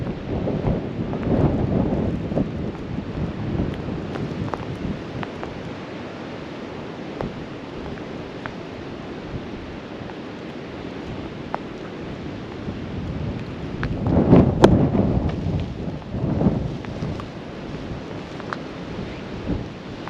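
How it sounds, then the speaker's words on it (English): Wind and heavy rain buffet a storm-swept ridge at about 3,000 feet while camping, with gusty rumbling wind noise hitting the microphone throughout and a stronger surge of gusts near the end. "So far, just wind, just rain."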